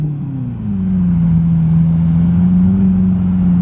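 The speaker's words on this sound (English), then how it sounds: "And then we got the Aventador with a wicked exhaust backing up." A Lamborghini Aventador with a loud aftermarket exhaust backing up at a Houston cars and coffee meet, giving a steady deep close-up engine drone with a slight pitch dip early on and no talk.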